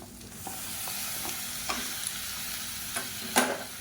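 Tomatoes and chilli powder sauté in a pan for okra (vendakkai) pachadi, giving a steady low sizzle with a few sharp clicks of a spoon stirring against the pan.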